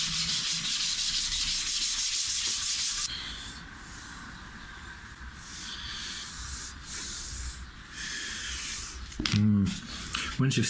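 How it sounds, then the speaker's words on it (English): Hand sanding of wood on a restored coffin-shaped guitar: rhythmic rasping strokes, loud and close at first, then softer scrubbing passes with brief pauses, ending in a short burst of handling noise. "Sanding time."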